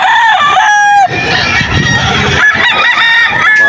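Young roosters (stags) at the Bocaue poultry market crowing loudly and close by, one long crow followed by clucking and clattering market bustle, with faint voices in the background.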